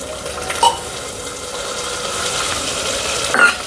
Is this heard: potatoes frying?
yes